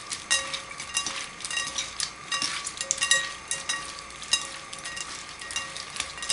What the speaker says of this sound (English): we're going to toss this first just to get all the ingredients all over the shrimp